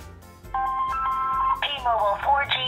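An outgoing call rings through a phone's loudspeaker, a steady electronic tone that keeps changing pitch, over faint background noise.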